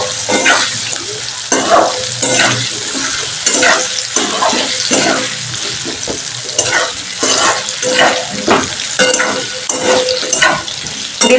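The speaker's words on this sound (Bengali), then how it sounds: "এবার আমি বেগুনটাকে ভালো করে ভেজে নেব।" Eggplant seasoned with salt and turmeric fries in hot oil, giving a loud, continuous close-up sizzle with steady, rhythmic stirring and scraping strokes running throughout.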